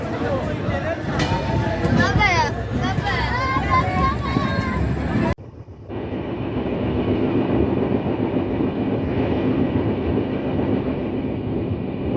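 Ruposhi Bangla Express, train 827 on the Benapole–Dhaka run, pulls away from Padmabila station with a loud, steady rumble and rattle of rolling wagons, and a crowd of voices mixes in during the first half.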